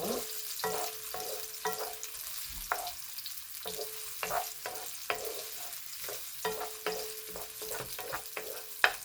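Food sautéing in hot cooking oil for a curry meatball dish, a steady sizzle broken by repeated stirring scrapes and clicks, close and fairly loud with no talking.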